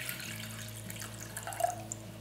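A cup of water poured for pickle brine, a steady close trickle of liquid running over a low hum, alone and without talk.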